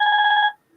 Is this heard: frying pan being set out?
no